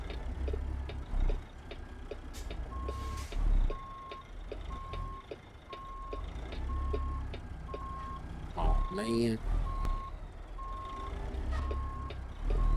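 Reversing beeps from a truck in American Truck Simulator, a steady run of evenly spaced electronic beeps over low engine rumble, while someone talks over them now and then.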